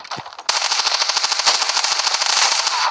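Rapid automatic gunfire in a shooting video game rattles out as a dense, fast burst of shots lasting a few seconds, loud and close, after a brief quiet moment.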